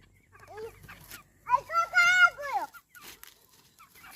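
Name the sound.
chicken clucking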